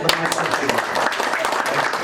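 Applause from participants at an acting workshop, a fairly steady patter of many hands with voices mixed in underneath, close and moderately loud throughout.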